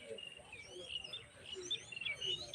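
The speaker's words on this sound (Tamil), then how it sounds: "குஞ்சு சத்தம் கேக்குது." Newly hatched sparrow chicks peep in a nest with faint, rapid high-pitched chirps scattered throughout over a soft background hiss.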